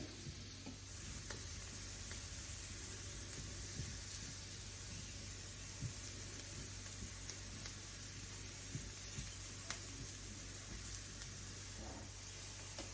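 Radishes browning in a frying pan, a quiet, steady sizzle with faint scattered crackles and occasional stirring clicks, heard alone without talk.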